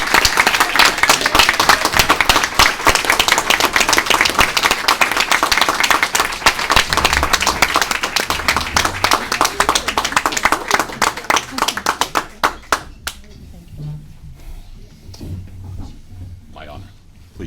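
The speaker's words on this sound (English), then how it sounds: "Would you please give a resounding applause to Councilwoman Joann Ariola." An audience applauds New York City Council Minority Leader Joann Ariola with loud, sustained clapping that thins into a few last claps after about twelve seconds, leaving quiet room noise.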